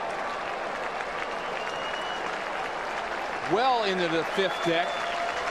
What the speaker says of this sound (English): he receives a huge ovation from this crowd in Toronto